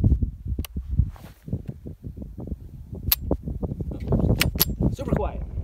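A suppressed Ruger 10-22 takedown with an SBX barrel and a GSL Tech Pillbox suppressor fires several sharp, short, muted cracks spaced irregularly across a few seconds outdoors, with rustling and a voice in the background.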